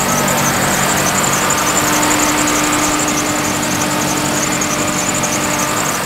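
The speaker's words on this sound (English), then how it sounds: "The Volvo is just warming up, and no leaks or anything so far." A V8 engine swapped into a Volvo idles steadily while warming up, a constant loud, even rumble with a high whine, running alone without any talk.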